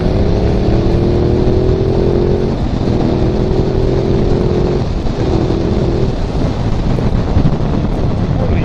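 A Ducati Multistrada 1200 DVT climbs a hill under acceleration, its engine note rising in pitch in several gear-by-gear pulls. Heavy, constant wind buffeting on the microphone partly masks it.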